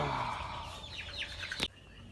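A backyard chicken, a Silkie or Leghorn, gives a few short rising clucks near a hutch, nearby and moderately loud, ending in a sharp knock against a quiet outdoor background.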